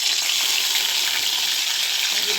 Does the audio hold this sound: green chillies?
yes